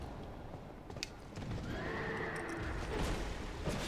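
A horse neighing in the video game Dark Souls 2, a drawn-out whinny over a dense, rumbling game soundscape.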